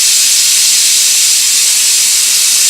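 Steam hisses steadily and loudly from the pressure-release valve of a pressure cooker cooking collard greens, a continuous broadband rush with no pauses or talk.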